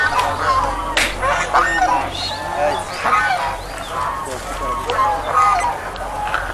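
Geese on a goose farm honk and call in a dense, continuous chorus, several birds overlapping at close range with a steady background hum while people talk nearby.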